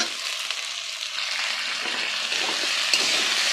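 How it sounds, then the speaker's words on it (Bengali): Potatoes frying in a pan with fish-head cabbage ghonto, a steady dense hiss of oil sizzling throughout, close and fairly loud with no talking. "আলুগুলোকে ভালো করে লাল লাল করে ভেজে নেব"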